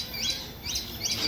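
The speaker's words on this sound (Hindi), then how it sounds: "पैरट।" A parrot in the Chandigarh bird park gives three bright, repeated calls at an even pace, clear and fairly close over a low background murmur.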